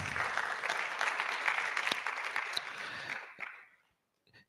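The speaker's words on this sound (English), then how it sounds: "let's give them a round of applause" An audience at a college public lecture breaks into dense, sustained applause that fills most of the stretch, then fades out abruptly into near silence, with one faint clap after.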